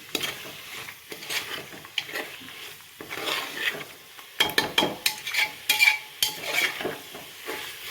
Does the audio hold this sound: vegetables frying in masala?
yes